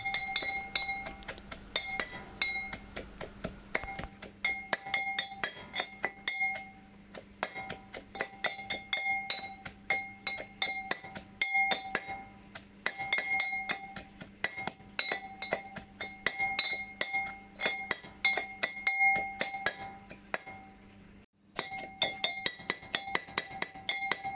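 Garlic, chili and coriander leaves are pounded together in a mortar, giving a long series of sharp, ringing clinks and knocks in an uneven rhythm, close and fairly quiet, with no talking.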